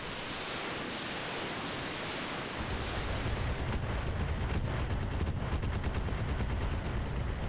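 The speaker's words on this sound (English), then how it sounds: "That's a lot of missiles." Rapid missile volleys launch in the Roguetech mech combat game, a dense roaring barrage of overlapping whooshes and blasts that starts suddenly and continues loudly to the end.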